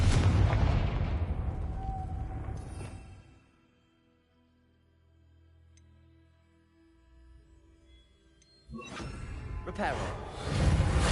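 Confringo fire spell explosions in Hogwarts Legacy on PS5, loud booming blasts with a roaring rumble that fades to a low hum before another heavy explosion hits, with a voice calling out over them.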